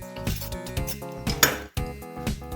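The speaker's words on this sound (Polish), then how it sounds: "Już teraz mieszamy wszystko dokładnie." Salad is stirred in a bowl, with utensils clinking and scraping against the dish in quick, uneven strokes and repeated clattering taps.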